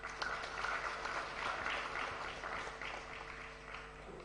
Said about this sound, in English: Can we put up our hands much better than we did for Rosa?